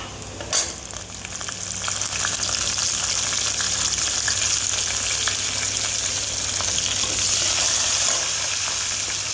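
Cumin seeds, green chilli and curry leaves sizzle steadily in hot oil for a potato curry, a dense continuous frying hiss with a brief sharp crackle near the start, close and loud with no talk.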